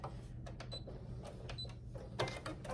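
A home sewing machine running a short back stitch while a fabric boxy pouch is sewn: quiet, clicking mechanical rattles in brief bursts with small pauses between them.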